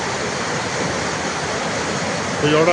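Rushing flood water roars steadily, a broad, constant surge of waves close by at Panjaura, Garhshankar, Hoshiarpur district, Punjab, with a faint tone appearing near the end.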